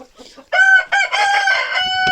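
Chickens squawk and cluck loudly up close in a agitated burst, with a rooster-like crowing call among them.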